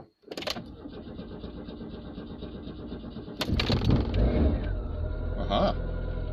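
A Dacia car has its ignition switched on and then its engine cranks and fires, with a short click and whir first, then a sudden louder start settling into a close idle rumble.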